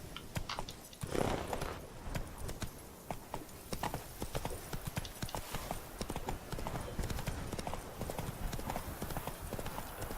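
Horse hooves gallop in The Witcher 3 video game, a steady, fast clip-clop rhythm running continuously at moderate loudness with a brief whinny-like swell near the start and no talk over it.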